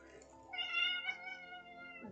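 A house cat gives a single drawn-out, rising-and-falling meow close by, clear and fairly loud, over quiet indoor background.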